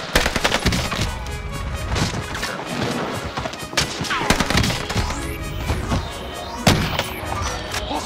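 Call of Duty Vanguard gameplay gunfire, with rapid automatic bursts and loud overlapping shots filling the mix continuously, plus sharp cracks and impacts throughout.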